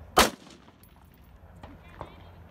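A single sharp, loud gunshot at a 3-gun shooting stage, close by, followed by a brief echo and quiet outdoor ambience with a faint metallic ping of a distant target.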